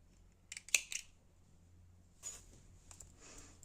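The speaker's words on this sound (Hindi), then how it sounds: "ऊन काट कर अलग कर देंगे।" Scissors snip through wool yarn after knitting baby booties, a couple of quiet, close cutting clicks followed by fainter handling noise, with no talking.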